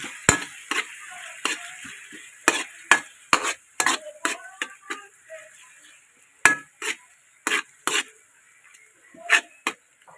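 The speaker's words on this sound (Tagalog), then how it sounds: "powder chicken cube halu-haluin natin" Chicken powder and a chicken cube being stirred into food cooking in a pan, a steady run of sharp scraping and clacking strokes over a faint sizzle, close and fairly loud with short pauses between stirs.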